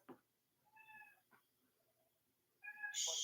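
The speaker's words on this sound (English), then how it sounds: "my cat's coming yelling" A domestic cat yelling with a few loud, drawn-out meows close by in a quiet room, the last call rising sharply louder.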